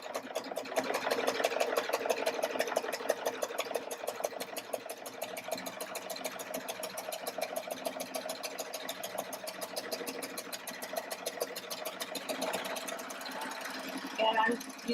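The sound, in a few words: serger sewing fabric for a quilting project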